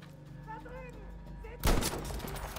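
An enemy rocket fires and bursts in the World War II shooter Battlefield 5, a sudden loud explosive blast breaking in after a stretch of quieter battlefield ambience and trailing off into rumbling debris.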